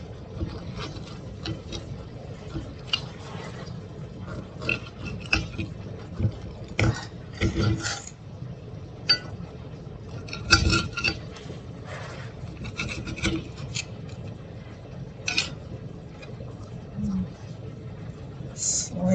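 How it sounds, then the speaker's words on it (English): A knife slicing through cornbread at home at suppertime, soft repeated rasping and scraping strokes with light taps against the pan, close and fairly quiet. "Cut the cornbread."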